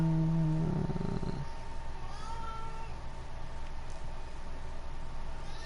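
A house cat purrs close by with a steady low rumble that continues under the background sound of a racing game at Monza.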